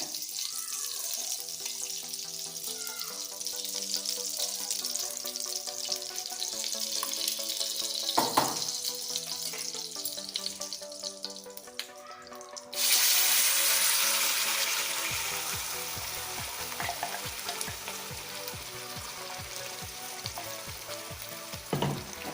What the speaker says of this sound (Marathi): का मसाले रोस्ट करून घेया की 3 चमचे तूप घाल्या.